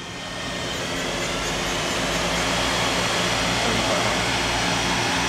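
A Mori Seiki NLX-2500SY multi-axis CNC turning center spindle spins at speed, a loud steady broadband whir with a sustained tonal hum that swells slightly at the start and holds evenly.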